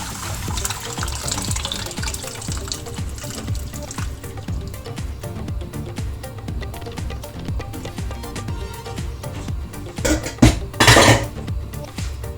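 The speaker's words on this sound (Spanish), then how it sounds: "Agregamos garbanzos con caldo." Chickpeas and broth go into a cooking pot with the carrot and garlic during autumn meal prep, giving clattering and sloshing liquid at close range, with a louder splashing pour and knock of utensils near the end.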